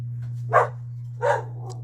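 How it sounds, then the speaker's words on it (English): Dogs bark twice indoors, two short bursts spaced under a second apart, moderately loud over a constant low electrical hum, with no talk. "The dogs are going crazy."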